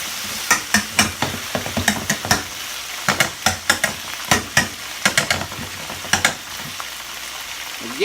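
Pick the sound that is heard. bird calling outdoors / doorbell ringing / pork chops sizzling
pork chops sizzling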